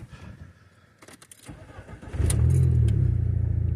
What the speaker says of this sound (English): So we're going to start this car back up.